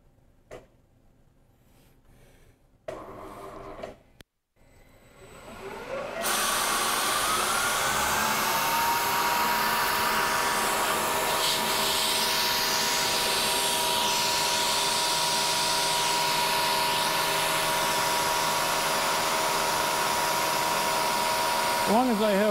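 A CNC Bridgeport mill with a 1/4-inch cutter machines sheet aluminum. After a few clicks and brief quiet it settles into a loud, steady whirring roar with a faint high whine that runs unbroken and close by.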